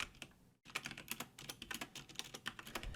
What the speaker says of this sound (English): Sorry if my keyboard's super loud.